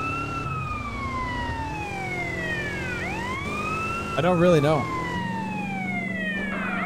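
A vehicle siren in GTA San Andreas wails in long rising and falling sweeps over a steady engine drone, with a brief warbling burst midway, loud and close, while someone talks over it.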